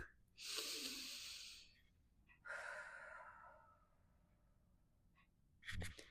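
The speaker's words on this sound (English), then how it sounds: "let me take a breath" One person takes a few close, audible breaths, with long airy inhales and exhales separated by quiet pauses, then gives a short sharp sniff or snort at the end, with no speech.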